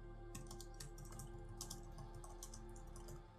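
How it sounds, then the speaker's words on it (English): Close, quick typing on a computer keyboard as a prompt is entered, with irregular bursts of light key clicks over a faint steady hum. "Type it in and click submit."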